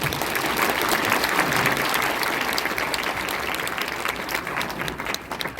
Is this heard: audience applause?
yes